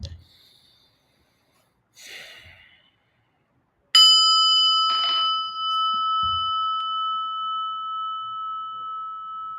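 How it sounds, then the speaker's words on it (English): A small bell is struck once and rings with a clear, bright tone that lingers and slowly fades over several seconds. Soft breaths and quiet rustles come before it, and a faint breath passes under the sustained ring. "let's ring our little bell here and just get a little breath"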